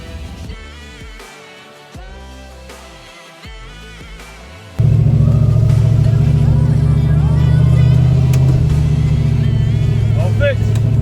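A race car's engine, just back from a transmission repair in the pits, gives a few short revs, then roars into a loud, steady drone as it pulls away, with people talking nearby.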